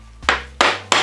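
Three sharp, hollow taps strike a hard soap mold in quick succession, each a crisp knock with a brief decay.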